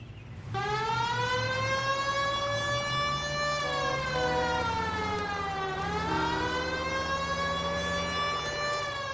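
A police car siren in the video game L.A. Noire wails, rising and falling steadily with strong harmonic tones, loud and continuous after a brief quiet start, with no voices over it.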